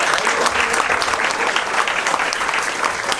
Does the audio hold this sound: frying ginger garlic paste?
no